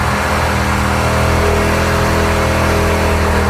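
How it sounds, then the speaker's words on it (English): A Ford muscle truck does a burnout while strapped on a trailer, its engine roaring loud and steady with constant tire-spin noise close up, no voices. "I've never done a trailer burnout before though"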